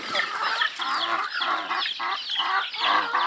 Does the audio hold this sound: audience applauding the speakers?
no